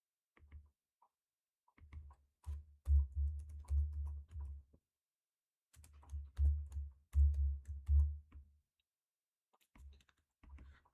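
Keystrokes on a computer keyboard while entering values into a spreadsheet, coming in quick uneven bursts of clicks separated by short pauses, close and fairly quiet with no voices.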